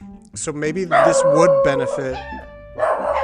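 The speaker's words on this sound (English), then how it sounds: "Sorry for the dogs." Dogs barking and howling in the background at moderate level, mixed under continuous close conversational speech throughout.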